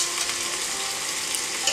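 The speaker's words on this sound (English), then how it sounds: "so that the chili powder gets sauteed with oil and it gives better color." Chili powder sautéing in hot oil for a rogan josh, a dense, continuous bright sizzle heard close and alone with no talking.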